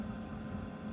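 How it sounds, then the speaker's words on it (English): Raw vegetables sizzle in a hot pan at a backyard barbecue brunch, a steady close hiss with a low, even hum beneath it and no talk. "so we're sizzling that"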